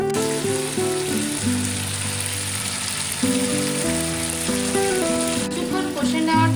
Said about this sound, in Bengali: ভালো করে কষে নিচ্ছি আলু দেওয়ার পরে